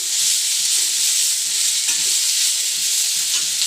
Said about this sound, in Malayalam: ഈ ഉള്ളിയും തേങ്ങാക്കൊത്തും മൂത്ത് നമുക്ക് ഈ ചക്കക്കുരു ഇതിനകത്തോട്ട് കുടഞ്ഞിട്ട് കൊടുക്കാം. ഒന്ന് ഇളക്കി കൊടുക്കാം.